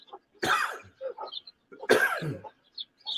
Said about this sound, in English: You know that fake cough, the pump fake cough.